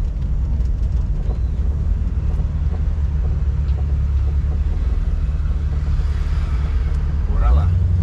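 A 1961 Ford Thunderbird's 390 V8 idles with a steady, loud, low rumble out on a street, swelling into a rev near the end, with wind buffeting the microphone.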